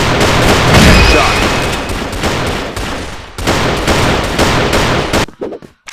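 Rapid bursts of video-game gunfire from a Train Clan match fill the clip loud and dense, with sustained automatic fire for about five seconds before it cuts to sparse trailing shots.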